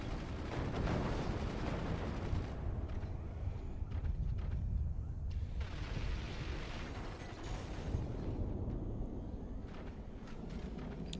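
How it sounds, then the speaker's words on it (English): Machine guns and mortars fire in a video game battle, with a continuous rumbling clatter of rapid shots and thudding blasts rolling steadily throughout at moderate loudness. "So many machine gunners, so many mortars."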